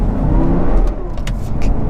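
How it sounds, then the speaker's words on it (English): An Audi R8 on a rainy drive spins its wheels up, a steady loud engine drone with road and wet-tyre rumble building under it, heard from inside the car with no talk. "that's spinning the wheels up"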